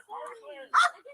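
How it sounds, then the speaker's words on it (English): A dog gives a single short, sharp bark that stands out after a stretch of whining, yelping vocal sound, close and clear, with no talk over it. "That dog actually is barking"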